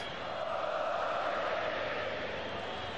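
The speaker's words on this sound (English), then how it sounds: "The crowd really thrilling to it." Football stadium crowd at an Argentina versus Venezuela World Cup qualifier, a steady dense roar of cheering that holds at an even level throughout, with no breaks.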